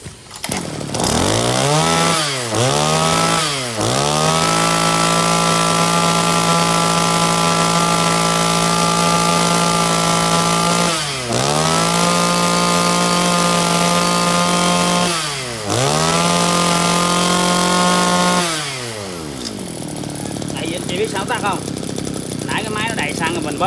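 A Kawasaki TG24 brush cutter engine runs loud and close, buzzing steadily and revving up and down several times before winding down and shutting off near the end.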